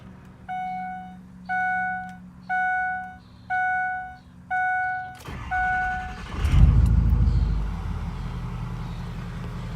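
A Ford 6.0 Powerstroke diesel truck, after six evenly spaced warning chimes from inside the cab, roars to life with a loud surge, then settles into a steady rumble that carries on close by.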